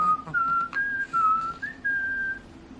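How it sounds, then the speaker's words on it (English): A person whistles a short, clear, wandering tune close by to a baby, with several sustained notes broken by brief pauses. "he loves whistling"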